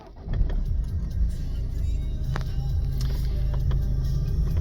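Push-button start of a Citroen C3 Aircross with the BlueHDi 120 diesel: the engine cranks and catches, then settles into a steady close idle rumble with faint clicks over it.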